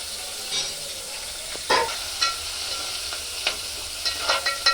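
Sliced onions and green chillies frying in hot oil with shahi jeera for bagara rice, a steady close sizzle broken by a few sharp stirring scrapes, no talking.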